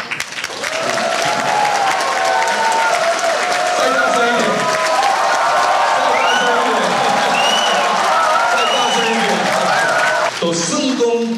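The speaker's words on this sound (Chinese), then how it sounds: "我们特别要给最热烈的掌声" A banquet crowd in San Francisco breaks into loud, sustained applause for about ten seconds, dense clapping with a few cheers, before it thins out and cuts off.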